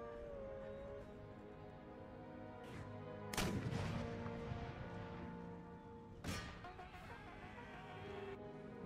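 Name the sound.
artillery fire in video game Empire Total War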